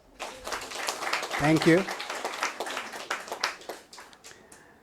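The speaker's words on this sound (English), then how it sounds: "Claps, guys." Audience applause at a national awards ceremony for innovative training practices, a dense burst of clapping that swells and carries on under a brief spoken thanks.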